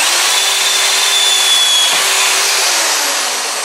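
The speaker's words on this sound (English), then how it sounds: "Just pre-drill it." A power drill runs loud and continuous, a steady high whir as the bit pre-drills a wooden lumber cross member, holding constant throughout.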